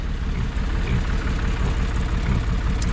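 A tractor engine running steadily nearby, a low, throbbing idle with an even mechanical pulse and no other sounds over it.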